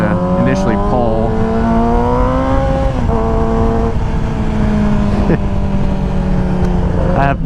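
2007 Yamaha YZF R6 sport bike engine held near 7,000 RPM on a mountain road ride: a loud, close, steady high-pitched exhaust whine with small pitch shifts as the throttle eases and picks up again.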